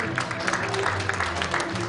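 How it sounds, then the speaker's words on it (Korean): Audience applause at an officers' inauguration ceremony of a Korean horse industry association, a steady moderate patter of many hands clapping at a distance, with a little background murmur. "박수 부탁드리겠습니다"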